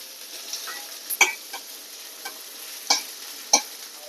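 Dried fish (shutki) fries in a pan, with a faint steady sizzle beneath a few sharp scraping stirs of a utensil, close up and without talk.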